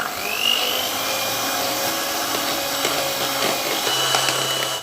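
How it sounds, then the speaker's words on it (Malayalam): Electric hand mixer beating egg whites with powdered sugar for a cake, a steady whirring drone throughout with faint scraping against the bowl, close and continuous with no talking. "ഇനി ഇതിൽ 1 കപ്പ് പൊടിച്ച പഞ്ചസാര കുറേശ്ശെ ഇട്ടിട്ട് വീണ്ടും ബീറ്റ് ചെയ്തിട്ടെടുക്കുക."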